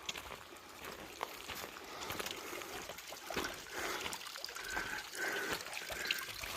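Water trickling out of a fountain at a trail water source, a soft, steady dribble and splash in the open air, faint and continuous with light shuffling nearby.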